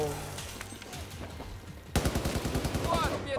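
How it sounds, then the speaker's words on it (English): Gunfire from a pistol, a burst of sharp repeated reports starting midway and continuing rapidly, loud and close, with excited voices around it. "Oh, just a pistol!"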